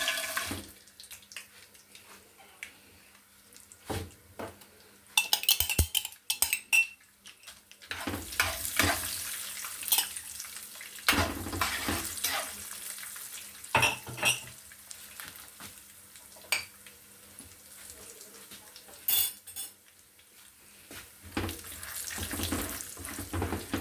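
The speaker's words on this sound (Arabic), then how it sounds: "اول حاجة الزيت عندي هنا سخن، هنزل بالسوداني" Peanuts roast in hot oil in a pan, giving a continuous sizzle and crackle broken by scraping stirs and louder splattering bursts at irregular intervals.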